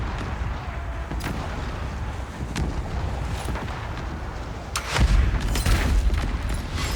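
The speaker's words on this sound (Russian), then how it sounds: "Хороший выстрел, Эдвард Тич." Cannon fire in the video game Corsair Cove: several dull booms over a rumbling background, the heaviest volley landing near the end, moderately loud.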